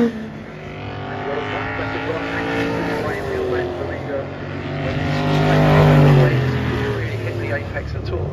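Race cars in a Masters Gentlemen Drivers event at Brands Hatch descend the hill from Druids, engines droning steadily and swelling louder toward the end, with a commentator talking over them throughout.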